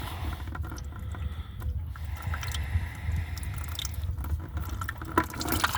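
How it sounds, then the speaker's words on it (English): Water drains out of a Ferrari 360 engine in a steady, close wet trickle, with splashy drips layered over a low continuous rumble. "That is water coming out, by the way. That's not vinegar."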